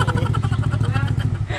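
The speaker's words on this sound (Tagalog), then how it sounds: "Ang ingay kasi ng motor." Motorcycle engine fitted with a JVT pipe muffler, idling with a loud, steady, rapid throbbing exhaust pulse up close, while a voice talks over it.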